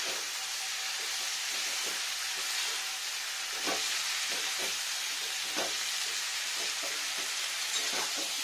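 Broccoli curry with small desi tomatoes, water and spices is stirred in a pan on the stove, giving a steady soft simmering hiss with faint scraping strokes of a spoon at irregular intervals throughout.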